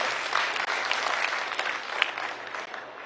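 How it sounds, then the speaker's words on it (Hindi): Crowd applause at an outdoor political rally in Gorakhpur, a dense, steady wash of clapping from many people, sustained evenly and heard from a middle distance. "इनके लिए भी जोरदार तालियां बजा दीजिए आप"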